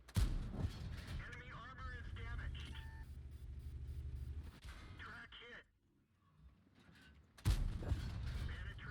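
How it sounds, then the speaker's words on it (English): Tank cannon shots and shell impacts in World of Tanks boom out in heavy bursts, with a mechanical rumble of the vehicle running steadily beneath and a short quiet gap before another loud hit near the end. "I mean, the shots are hitting now."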